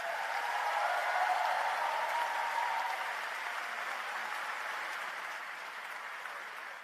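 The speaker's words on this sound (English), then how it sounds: "give them that huge cheer" An audience at a youth councillors' event in the UK applauds and cheers as the 2022 councillors leave the stage, a dense sustained clapping that swells early and slowly tapers.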